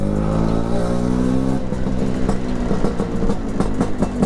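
A 1986 Piaggio Vespa PX200E scooter being ridden: a steady engine drone at first, then a rougher, choppier putter with rhythmic pulses as the ride continues, loud and close throughout.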